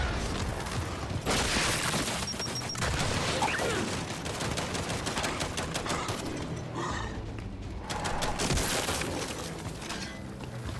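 Gunfire in the video game Gears 5 during a campaign battle: rapid, sustained bursts of shots with crashing, breaking impacts and mechanical clatter, loud and dense across the whole stretch, with occasional game voices mixed in.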